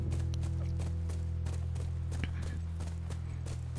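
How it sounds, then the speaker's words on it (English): Horse hooves clip-clop at a steady walking pace in the video game The Last of Us, near a ranch. The hoofbeats sit over a constant low droning hum. "That's our horse."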